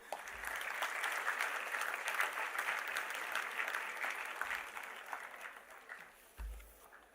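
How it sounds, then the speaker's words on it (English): Applause from an assembled audience at the NMIMS 23rd University Day celebration, a continuous wash of many hands clapping that holds steady, then thins out toward the close with a low thump near the end. "A round of applause."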